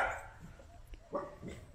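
A small street dog barks a few times in sharp yips, fairly faint and spaced apart against a quiet outdoor background.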